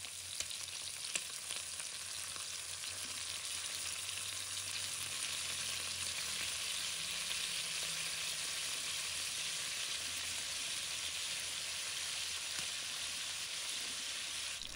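Pork ribs pan-frying in hot oil until golden and crisp, a dense, even hiss of sizzling fat holding steady and close throughout, with no talking.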